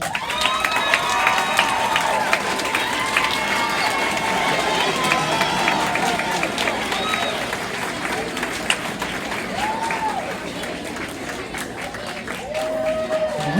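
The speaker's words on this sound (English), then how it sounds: "Let's give these students a round of applause." A large crowd at a school completion ceremony applauds students continuously, with cheers and whoops rising over the dense clapping, and voices calling out throughout.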